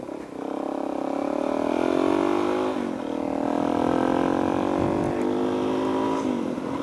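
A supermoto motorcycle revs up and down as it rides. The engine drone is steady, close and fairly loud, with two clear shifts in pitch.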